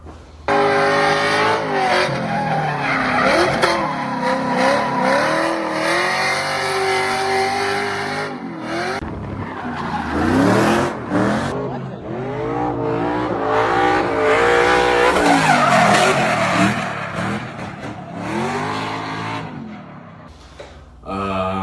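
LS3-swapped Nissan 350Z drift car with a loud, sustained engine roar that rises and falls in revving sweeps throughout, over a continuous tyre-squeal hiss with a brief dip midway.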